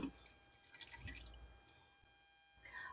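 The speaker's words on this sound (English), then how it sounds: "I'm just going to strain this right through here" Mint limonada strains through a small strainer into a jar, giving soft, close trickling and dripping sounds that fade briefly and then pick up again.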